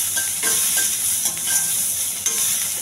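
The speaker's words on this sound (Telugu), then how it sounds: "ఉల్లిపాయ కూడా దోరగా ఎగించాలండి" Onions frying with cumin seeds and curry leaves in a pan for a green pea tempering, a continuous loud crackling sizzle with scraping stirs recurring every half second or so, no talk.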